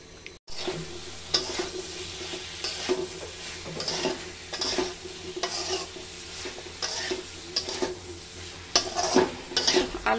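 Potato, eggplant and dried fish curry being sautéed in a pan, a continuous soft sizzle with regular scraping and stirring strokes repeating every second or so, moderately quiet and close, with no one talking.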